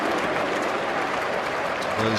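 Cricket crowd at a cold September match applauding and making steady noise, a dense continuous wash of clapping at moderate distance, with commentary voices over it.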